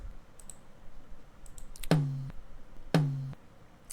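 Two dry, unprocessed hits on a left-side tom drum about a second apart, each a deep punchy thump with a short decaying tone, faint clicks between.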